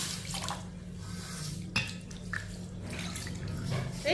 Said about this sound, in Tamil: இப்போ இதில் தண்ணி ஊற்றிக்கிடுவோம்.